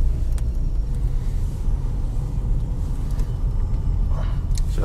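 A 2020 Lada Granta with an automatic gearbox idles after a remote start on a snowy day. A steady, loud, low engine rumble runs throughout with little variation, and a few faint clicks sound in the background.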